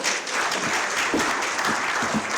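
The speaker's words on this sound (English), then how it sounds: "a round of applause for the panel" Steady, dense applause from an audience at a plenary session of a poverty policy workshop, continuous and fairly loud throughout without a break.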